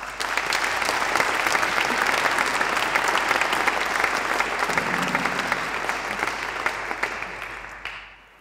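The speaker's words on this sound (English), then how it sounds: "So a big round of applause," Sustained audience applause at an ideas-to-change-the-world talk event, welcoming a speaker to the stage; dense, steady clapping from a large crowd that holds for about eight seconds before tapering off at the end.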